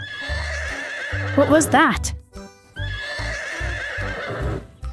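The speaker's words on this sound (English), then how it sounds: "It's a horse." A toy plays a bright horse-neigh sound effect, a wavering whinny lasting about half a second, heard loudly between stretches of close-up talking.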